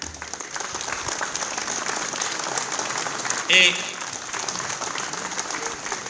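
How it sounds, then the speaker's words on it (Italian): Applause for Arduino Nali, a former mayor remembered at an Italian Liberation Day ceremony on 25 April in Adria, rising as a steady, dense crowd clapping that continues throughout with a voice briefly audible. "A lui va un grande applauso"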